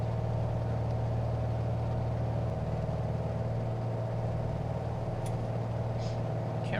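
A Carenado PA28 Arrow III piston engine idles on the ground in a flight simulator, a steady loud drone whose low hum shifts as the RPM drops partway through, with no talking.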